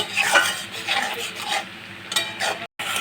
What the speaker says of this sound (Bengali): সব কিছু ভালো করে কষিয়ে নিতে হবে